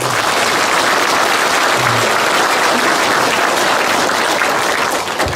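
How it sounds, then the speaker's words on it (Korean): Sustained, loud applause from a lecture audience at a special talk by a former national police commissioner, dense and steady throughout with no voices over it. "이 대목에서 박수 한번 치셔야 돼요."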